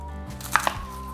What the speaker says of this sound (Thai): เดี๋ยวผมจะหั่นเป็นชิ้นเล็กๆนะครับ